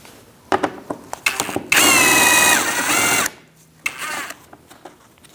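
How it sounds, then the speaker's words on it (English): An 8mm socket on a power driver backs out a bolt on a 2000-2006 Mini Cooper 1.6L four-cylinder engine: a loud, close whir of about a second and a half, framed by sharp clicks and metallic taps of the tool. "Using an 8mm socket, I'm going to remove this bolt and the same one on the other side."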